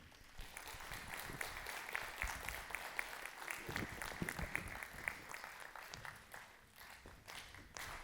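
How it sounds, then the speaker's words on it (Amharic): An audience claps at an award ceremony on a big stage in America, honoring a couple. The applause is steady and dense throughout, softening slightly toward the end. "ጭብጨባው ያንሳ።"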